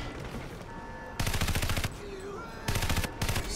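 Bursts of automatic gunfire from a Crysis Warhead firefight, two loud rapid volleys separated by quieter background noise, with no talking over them.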